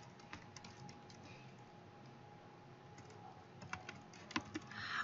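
Soft, irregular keystrokes come from a computer keyboard as text is typed, faint and close, ending with a slightly louder burst of clicks and no speech.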